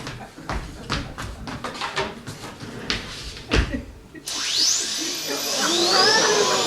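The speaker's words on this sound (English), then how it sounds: "That's the drill, Seymour." A dental drill sound effect from a Little Shop of Horrors stage show starts as a sudden high whine with sweeping pitch bends after a run of knocks and clatter, holding on loudly to the end.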